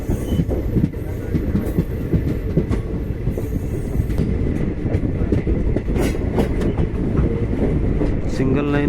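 A train rolls from the outer line onto the main line on the Mumbai–Balia route, wheels clattering steadily over rail joints with a continuous rumble and a few brief squeals, loud and near, with a faint voice over it.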